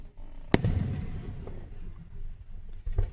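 A sharp firework bang bursts out early, then fades into crackling and scattered softer pops and rumbles from other fireworks in an outdoor display.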